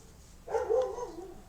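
A single short dog bark or yip sounds indoors at moderate loudness and fades quickly, with no talking around it.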